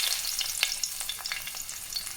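Crushed garlic frying in GRB ghee as a tempering for a dal and tomato stew: a soft, quiet sizzle scattered with light, quick crackling pops, heard close with no voices.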